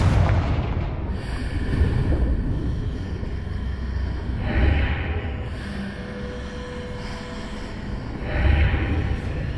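Blasting spell explosions in the Hogwarts Legacy video game, a sustained rumbling barrage with heavy booming bursts recurring near 4.5 and 9 seconds over continuous low roar.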